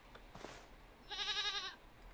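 Goat in the video game Morels: The Hunt giving a single short bleat at middling distance, preceded by faint soft noises.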